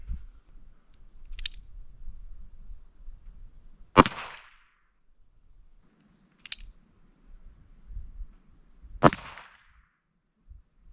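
Two sharp, loud .22 long rifle gunshots fired outdoors, well spaced and each followed by a brief decay, with fainter clicks and light handling noise between them.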